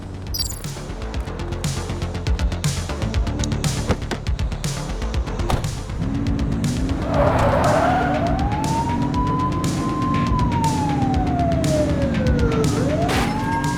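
A police car in The Precinct chases a suspect. Its engine rumbles steadily while a wailing siren rises and falls, joined by rapid clicking and tire noise, loud and continuous throughout.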